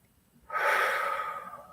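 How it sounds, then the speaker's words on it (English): A single deep breath drawn in during a mindfulness exercise, starting after a short quiet moment and swelling into a full, airy inhale that slowly trails off, close and alone. "Take a deep breath."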